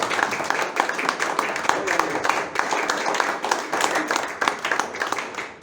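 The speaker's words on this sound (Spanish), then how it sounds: "denle un aplauso al Señor" Church congregation claps steadily for several seconds in a dense, loud burst of applause filling the worship space, with voices mixed in beneath the clapping.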